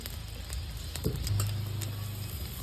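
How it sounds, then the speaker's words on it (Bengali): Cumin, two dried red chillies and nigella seeds hit hot oil as a tempering for leafy greens. The result is a soft, steady sizzle, faint and close, with no talk. "শাগে জিরে আর শুকনো দুটো লঙ্কা আর কালো জিরে দিয়ে দেবো ফোড়ঙে তেল দিয়ে দেবো"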